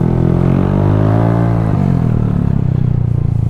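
A Vespa Primavera scooter with an Akrapovic exhaust runs close by, a loud, full engine drone whose pitch slides downward, then settles into a steady pulsing idle.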